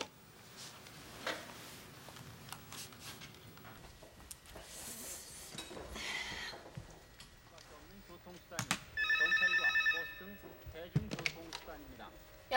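An electronic phone ring with a rapid warbling trill, repeated in short bursts after background chatter and household clatter.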